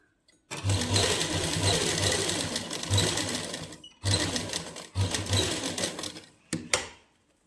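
A sewing machine stitches a seam on a party-wear suit in fast, loud rattling bursts, running for about three seconds, pausing, then two shorter runs and a quick final burst.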